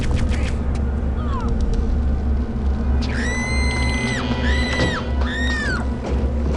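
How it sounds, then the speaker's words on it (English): Elite guard enemy in Return to Castle Wolfenstein shrieking as she dies to a flamethrower: several piercing, wavering high-pitched screams in quick succession over a steady roar of flame and game ambience, with someone talking throughout. "that's what an elite guard sounds like when you kill her with the flamethrower"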